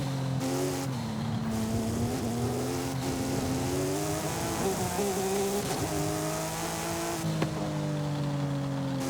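Porsche race car in Forza Horizon, engine droning at high revs, then dropping in pitch under hard braking and cornering with tire squeal, before pulling up again, loud and continuous.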